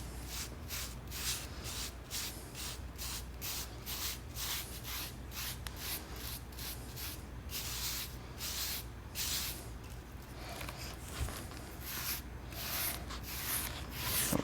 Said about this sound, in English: I'll just spray the foam right along there